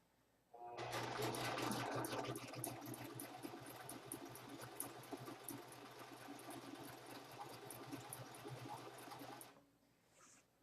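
A sewing machine stitches the neckline of a scoop neck blouse, running as a fast, steady whirring buzz for about nine seconds before stopping abruptly, close and clear with no talk.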